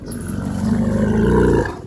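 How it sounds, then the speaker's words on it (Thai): An elephant in an elephant village gives one loud, deep, sustained call lasting nearly two seconds, rough and growling in tone, with no voices over it. "เราจะมีเสียงช้างร้อง"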